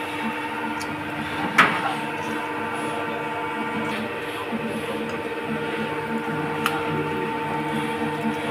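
A 100 kg capacity auto oil expeller machine at an oil mill in Maijdee, Noakhali, running at slow RPM, giving a steady mechanical hum and drone with a few sharp clicks and knocks over it.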